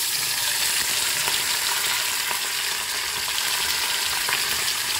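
Pomfret fish coated in masala spice paste frying in hot oil in a wok, a steady, dense sizzle with light crackles and spits running evenly throughout without talk.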